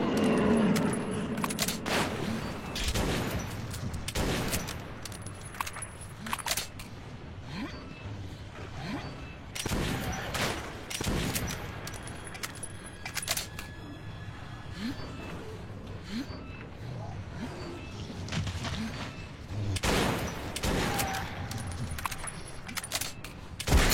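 Gunfire in the Metro 2033 video game, with bursts of shots recurring throughout amid tunnel combat noise, loud and close, with shouted voices mixed in.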